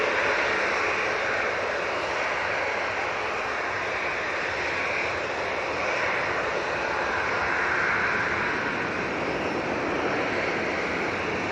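An Airbus A321neo at Manchester Airport gives off a loud, continuous engine roar that stays steady and close for the whole stretch.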